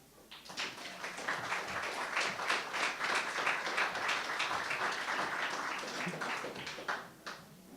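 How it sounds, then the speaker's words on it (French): An audience at a Quebec adult-education public reading event claps steadily in a room, a moderately loud burst of applause that swells quickly and tapers off near the end. "Avec vos applaudissements."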